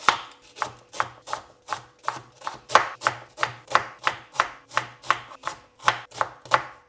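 Red onion roughly chopped with a knife on a board, a fast even run of about twenty crisp, sharp knocks, close and clear with nothing else heard.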